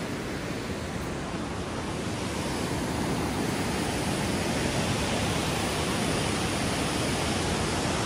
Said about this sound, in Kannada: ಹೆಂಗೆ ಹರಿತಾ ಇದೆ ನದಿ